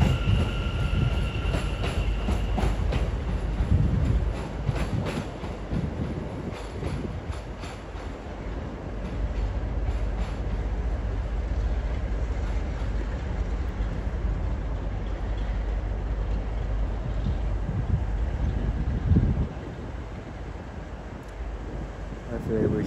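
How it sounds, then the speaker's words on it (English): British Rail class 73 locomotive 73205 pulls out of Crewe station on a London North Western Railway test run to Nuneaton, a continuous loud rumble of engine and wheels with some squealing, heard up close for the whole stretch. "Now heading off is 73205 on a London North Western Railway test run to Nuneaton."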